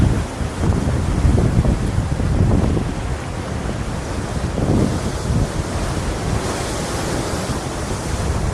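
Strong wind roars across the microphone over the steady wash of waves breaking on a rocky shore at Ilfracombe, North Devon, loud and continuous with gusting surges.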